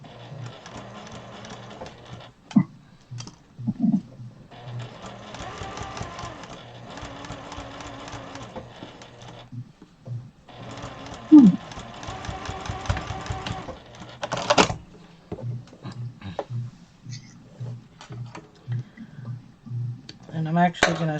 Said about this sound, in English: And I'm actually going to sew straight down here, just to seal that off where it joined.